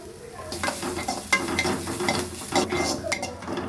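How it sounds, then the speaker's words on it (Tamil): Onion and garlic sautéing in oil, with a steady close sizzle broken by repeated scraping and stirring strokes of a utensil against the pan. "நல்லா வெங்காயமும் பூண்டும் அந்த பச்சை வாடை போகிற அளவுக்கு நல்லா வதக்கிக்கணும்"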